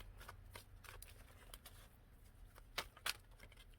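A thick deck of tarot cards being shuffled by hand, a soft rustling riffle with scattered flicks and two sharper snaps near the end, close and fairly quiet with no talk.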